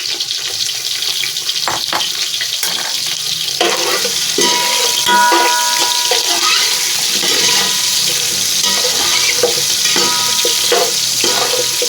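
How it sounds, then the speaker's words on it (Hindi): Chicken pieces fry and get stirred in hot oil in a pot while making white yakhni pulao, a steady close sizzle with scraping stir sounds throughout and no talking. "अब हम इस पर दोबारा से अपना चिकन डाल के इसको फ्राई करेंगे"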